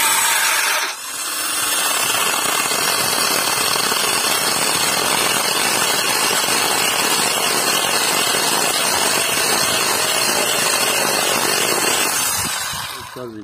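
An Assur cordless pruning saw starts and runs at a loud, steady whine for about twelve seconds, close up, with a constant buzzing drone that drops off at the end.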